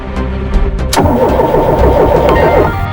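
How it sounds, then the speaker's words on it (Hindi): A car's starter clicks a few times, then the engine cranks loudly and close in a rapid, rhythmic churning that carries on for about two seconds under hot outdoor conditions, with no talking. "गाड़ी स्टार्ट करो।"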